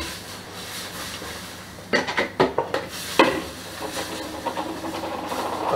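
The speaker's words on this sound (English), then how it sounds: "Okay, so stirring." Flour being stirred into a boiling mixture for choux pastry, with a soft steamy hiss under several clattering scrapes of a spoon against the pot.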